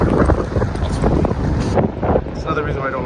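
On a cold, rainy day, wind buffets and roars steadily across the microphone outdoors, forming a loud, rumbling wash while a person talks over it.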